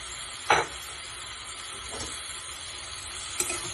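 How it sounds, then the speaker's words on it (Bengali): Mashed vegetables frying in a pan for pav bhaji, a quiet steady sizzle with a distinct spatula scrape near the start and a couple of fainter stirring touches later. "ভালো করে নেড়ে এর সাথে মিশিয়ে নেব"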